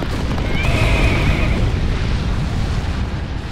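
A horse neighs once in the middle of a loud, roaring disaster scene from the film Pompeii, the whinny rising briefly above a dense rumbling backdrop of eruption noise.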